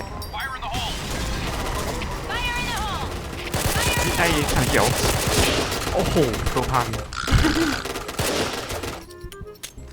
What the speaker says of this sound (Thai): เสียงปืนนี่ก็แบบ กระแทกใจมาก ดาเมจก็รุนแรง